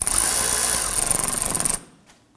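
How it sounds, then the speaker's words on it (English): A power screwdriver tightens screws on a cooling fan assembly for a 2008-2011 Ford Focus, a loud, steady whirring run with a pulsing ratchet-like rhythm toward the end before cutting off abruptly into quiet. "And just want to snug these down gently."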